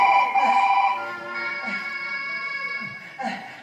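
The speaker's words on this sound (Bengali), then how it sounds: "ফোন এসছে।" A melodic electronic ringtone plays in steady repeating tones, fairly loud and close, with a brief pause and restart near the end.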